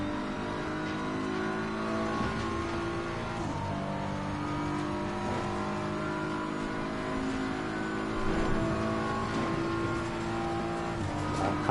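Race cars lapping Bathurst in the ACC sim racing game during an endurance race, engines droning steadily and loud with shifting revs throughout, no talk.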